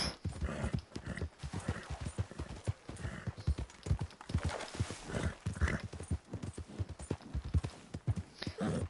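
Hooves clip-clop in a quick, steady rhythm, like a horse trotting over hard ground, close and unbroken throughout.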